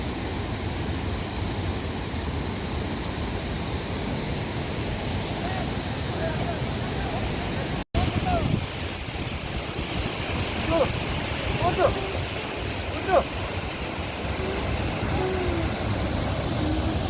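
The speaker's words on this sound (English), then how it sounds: "And this is a beautiful Tawang river." The Tawang river in Arunachal Pradesh, on the route to Jung falls, rushes loudly and steadily as broadband flowing water, broken by a brief dropout near the middle before the roar continues.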